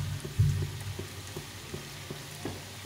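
Potato pakoras frying in hot oil over low heat, a steady soft sizzle with faint scattered crackles and one brief louder bubble burst, no voices.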